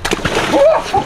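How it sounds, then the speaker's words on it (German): A person jumps into cold, fast-flowing water of about 4 degrees, making a short close splash and slosh with a voice briefly audible. "der schmeißt sich jetzt hier auch ins Wasser hinein"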